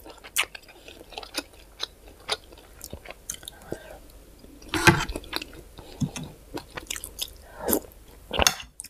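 Close, wet chewing and crunching of spicy salmon salad with sticky rice, in irregular bursts with smacks and soft squishes, a few louder bites standing out, and faint speech in between.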